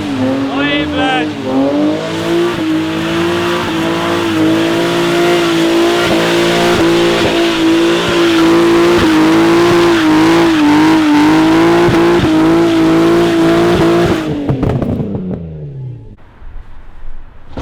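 A drift car revs hard and slides through a run, its engine note wavering loud and continuous for about fourteen seconds before fading out with a few faint sounds after.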